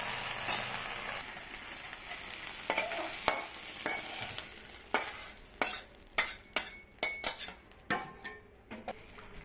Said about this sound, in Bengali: ভেন্ডিটা মোটামুটি ভাজা হয়ে যাচ্ছে